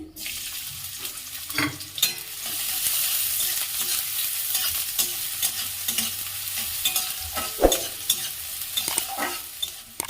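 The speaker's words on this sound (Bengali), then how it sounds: "তেলটা গরম হয়ে গেছে, ওর মধ্যে দিয়ে দিচ্ছি পেঁয়াজ কুচি" Chopped onions sizzling in hot oil in a kadai, a dense continuous crackle close by, broken by sharper scrapes and knocks as they are stirred.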